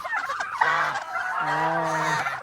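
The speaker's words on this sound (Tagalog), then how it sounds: "Papakainin natin yung mga bibi." Ducks on a farm give two drawn-out, nasal honking calls, the second longer, over a soft outdoor background with no talking.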